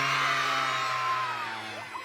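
A crowd of primary schoolchildren at SDN Serdang 05 shout together during a Muharram gathering, one sustained massed yell that fades toward the end.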